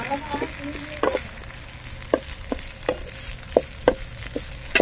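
Chicken pieces frying in a shallow pour of oil for village-style chilli chicken pallipalayam, a steady broadband sizzle with repeated sharp crackles and spatters every half second or so, close by.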